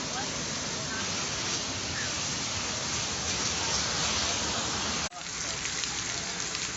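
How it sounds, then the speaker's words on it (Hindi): Steady, dense rain hisses loudly throughout, with a brief dip in the noise near the end. "ज़बरदस्त बारिश हो रही है"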